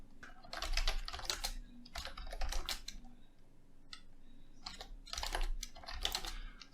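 Fingers type on a computer keyboard in quick, uneven bursts of clicking keys, close and fairly quiet, with short pauses between runs.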